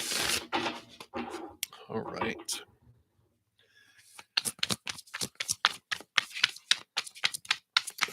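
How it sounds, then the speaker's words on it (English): Tarot cards are shuffled by hand in rapid, crisp riffling bursts, close and fairly loud, with a brief spoken remark early on and a pause before a long run of sharp, rhythmic snaps. "I'm going to shuffle these up here."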